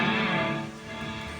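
Electric guitar with a chorus pedal on a crunch rhythm tone, a brief, moderately quiet strummed chord ringing alone.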